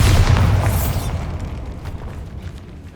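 A Bombarda blasting spell explodes in Hogwarts Legacy inside a tomb, a loud booming burst with a bright crackle that decays over a couple of seconds into a faint rumbling tail.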